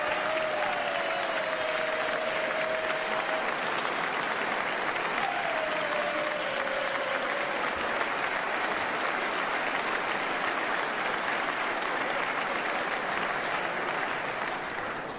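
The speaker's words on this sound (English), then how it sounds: "the claps are like extremely loud in my ears." A large audience at the Massachusetts governor's 2025 State of the Commonwealth address keeps up loud, dense applause, a steady wash of clapping with faint cheers mixed in.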